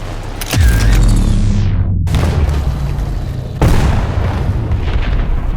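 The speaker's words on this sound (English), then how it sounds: "Again a Chinese player, and again a bomb." A bomb explosion destroys a player's aircraft in the War Thunder combat game: a loud, deep boom with a rolling rumble, then a second heavy blast about three seconds later, with no talk.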